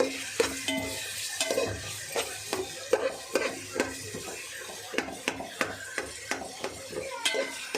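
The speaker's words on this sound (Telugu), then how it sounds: "మధ్య మధ్యలో తిప్పుకుంటూ ఉండాలి ఫ్రెండ్స్. ఉల్లిపాయలు మాడిపోకూడదు." Onions fry in a pot for drumstick mutton curry, stirred with a metal spoon that scrapes and clinks in a steady rhythm over a constant sizzle, up close.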